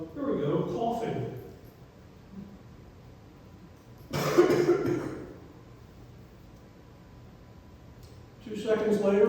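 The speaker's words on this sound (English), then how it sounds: "Here we go, coughing." Two short bursts of coughing, one around the middle and another at the end, with a voice-like burst at the start and quiet room noise between.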